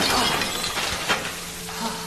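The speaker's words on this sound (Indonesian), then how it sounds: "ketika bertumpu pada toilet, tiba-tiba toilet itu pecah dan melukai kakinya" A toilet cracks and shatters under someone's weight in a loud, dense burst of breaking ceramic, with scattered crunching debris continuing throughout.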